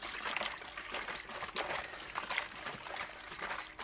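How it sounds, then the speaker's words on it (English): Water sloshing and splashing inside a container as it is shaken, a steady broadband rush of liquid that rises and falls in quick surges throughout, close and moderately loud with no talking. "Let's shake this water up."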